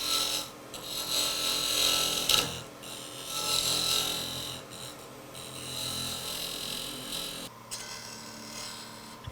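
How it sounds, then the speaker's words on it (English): A wood lathe turns a tenon on an amboyna burl blank, giving a close, raspy scraping hiss in repeated passes of a few seconds each, broken by brief pauses and a sharp tick near the middle. "I'm going to turn a tenon on here"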